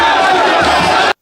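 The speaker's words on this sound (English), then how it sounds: "They both step out of their palaces to the cheer and admiration of their supporters." Supporters of a Kano emir shout and cheer loudly together as he steps out of his palace, a dense continuous crowd roar close by that stops abruptly.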